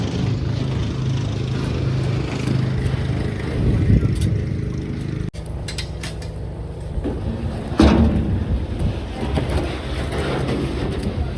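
A tractor working outdoors while being loaded with snow, its engine chugging steadily under a thump and clatter partway through, followed by a louder burst of machinery noise near the end.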